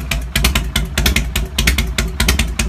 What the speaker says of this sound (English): So this is the actual sound that this motorcycle makes